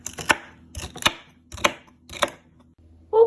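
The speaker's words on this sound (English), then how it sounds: "And then we cut the celery." Knife chopping celery on a cutting board, five crisp separate cuts spaced about half a second apart, close and clear with quiet pauses between.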